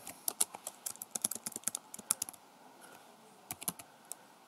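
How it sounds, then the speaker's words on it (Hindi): Code is typed on a computer keyboard in quick bursts of light, crisp key clicks, followed by a short pause and then a few more scattered taps, close and fairly quiet with no voice over them. "नेम जो है इसको लिखेंगे हम उसामा तो यहाँ पर जो है उसामा लिख दिया"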